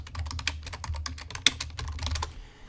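Fast typing on a computer keyboard, a dense close run of crisp key clicks with one sharper keystroke midway, ending abruptly into quiet.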